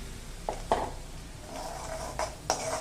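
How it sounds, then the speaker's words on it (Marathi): Spoonful of ground masala paste for a traditional Maharashtrian Bhogi lekurwali mixed-vegetable dish going into a pan of hot oil: a few sharp spoon-on-metal clinks and scrapes with a faint sizzle, close and otherwise quiet. "हे वाटण आपण आधी थोडंसं चमचाभर वाटण याच्यामध्ये टाकणार आहोत"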